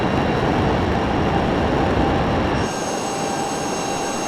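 A jet engine at full power with afterburner lit for takeoff in a flight simulator game, a loud, steady broadband roar that drops slightly partway through and then holds on, no talk.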